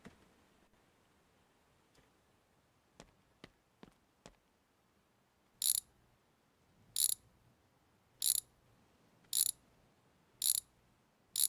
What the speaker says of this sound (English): we're gonna need our socket wrench for this